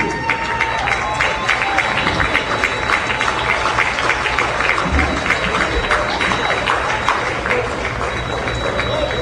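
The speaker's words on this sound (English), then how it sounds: "please give your club, the Wilson, a tremendous round of applause and a great season" Sustained applause and crowd noise from a stadium audience at a high school football game, steady dense clapping with some cheering mixed in throughout.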